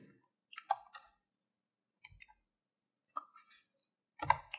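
Computer mouse clicks while working in 3ds Max, a few sparse, quiet, close clicks separated by silence.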